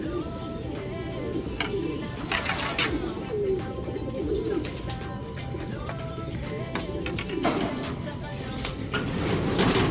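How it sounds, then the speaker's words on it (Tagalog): Pigeons coo repeatedly at close range over a busy background of rustling and soft chirps, with faint voices now and then. "yan yung pangalawang ibon natin, si Tiny, tsaka si Janso."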